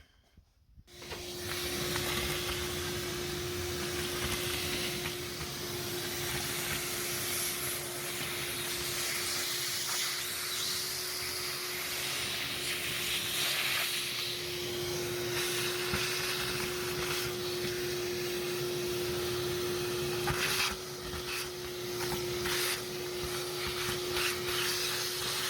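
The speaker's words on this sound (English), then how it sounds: "I'm gonna go get the shop vac, vacuum all that crap up." A shop vac sucks debris off an Oliver 70 tractor, a loud, steady, close drone with a constant hum that runs unbroken for over twenty seconds, no one talking.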